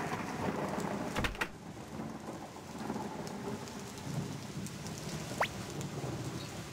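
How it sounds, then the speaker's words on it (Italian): Heavy rain in the video game Suikoden pours steadily as a dense hiss, and a sharp crack of thunder breaks in near the start before the downpour continues alone. "Non accenna a smettere di piovere."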